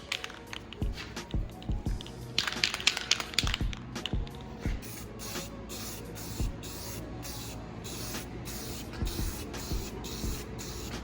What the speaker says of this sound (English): So let's get some primer on this.